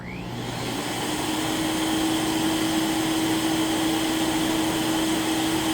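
An Electrolux Renaissance vacuum cleaner starts up and runs on its high setting. It is a loud, steady close whine with a rising tone at startup, then a constant drone.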